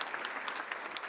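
Applause from an audience at a ribbon-cutting ceremony, a steady wash of many clapping hands throughout the short burst with no voices over it.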